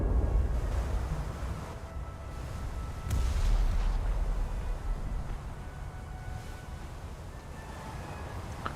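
A warship in a naval combat video game fires its guns, a heavy booming rumble with one sharper report midway and a continuous low roar of engine and sea beneath, no voices.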